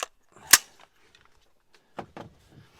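Rifle shots compared between 5.56 and 7.62 calibers, one sharp loud crack early followed after a pause by a pair of fainter reports, heard outdoors with no talking.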